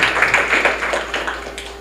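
Audience applause for Machakos University staff at an alumni association inauguration, a steady wash of many hands clapping for under two seconds, fairly close and fading slightly toward the end.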